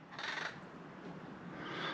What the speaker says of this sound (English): That's just the crows being a bit funny.